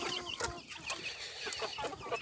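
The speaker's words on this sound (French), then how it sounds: "Donc ça c'est les poulets" Several chickens cluck and murmur together nearby, a busy, continuous flock chatter with no talking.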